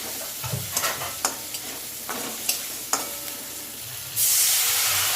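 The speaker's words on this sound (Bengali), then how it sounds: "এবার নাড়াচাড়া করবো" Spices with turmeric and cumin powder fry and sizzle in a pan while a spatula stirs, scraping taps recurring every second or so, then a louder hiss surges near the end; nobody speaks.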